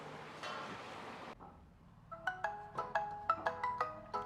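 A phone rings with a repeating electronic ringtone of short, bright tonal pulses, roughly eight evenly spaced tones, after a brief burst of other noise fades into quiet.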